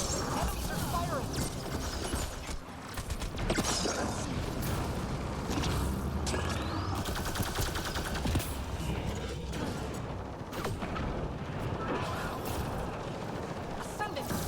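Enemy gunfire in the sci-fi shooter Mass Effect Andromeda multiplayer, a dense continuous clatter of weapon fire and mechanical impacts with scattered crashes, steady and loud throughout, with a voice speaking over it.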